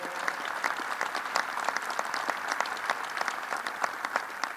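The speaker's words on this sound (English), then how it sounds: "Let's give her a round of applause." A crowd at the Nassau Coliseum applauds steadily, many hands clapping in a dense, even patter that holds at a consistent level throughout.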